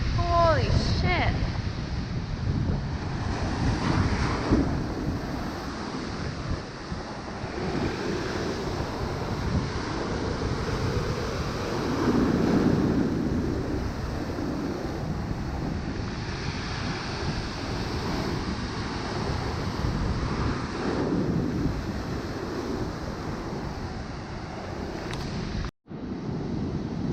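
Big ocean waves crash over a seawall onto a coastal path, a continuous heavy roar of surf mixed with strong wind buffeting the microphone, with faint voices now and then.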